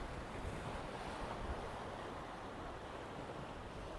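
Steady rush of sea surf and wind-blown sea noise on a dirty, churned-up sea, continuous and fairly loud, with no voices.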